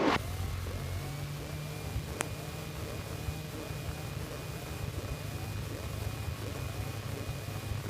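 Small aircraft taxiing on runway 25 at an airport, its piston engine a steady low drone heard from inside the cockpit, with a sharp click partway through and a faint voice over the hum.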